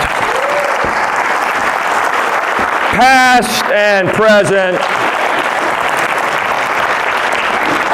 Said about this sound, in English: Clap for all these educators in your midst